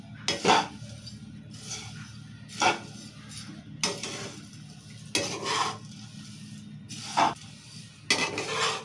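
Flattened rice chudva with green chillies being mixed in a pan, a spoon scraping and knocking against the metal in repeated bursts over a low steady background hum.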